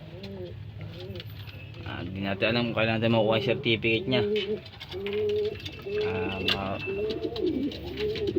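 Pigeons coo nearby in soft, repeated, throaty phrases under close conversational talk in Filipino.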